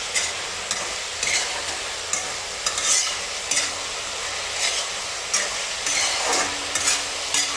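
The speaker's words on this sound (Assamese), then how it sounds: "মাংসখিনি মই লৰাই দিছোঁ।" Mutton curry simmers in a pot as a spoon stirs it in regular, rhythmic scraping strokes over a constant close sizzle, with no voices.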